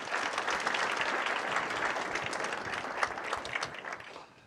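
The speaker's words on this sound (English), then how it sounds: "Please give them a round of applause." Audience applause fills a hall at a city's State of the City presentation, a steady dense wash of many hands clapping that holds loud throughout and tapers slightly near the end, with no talking.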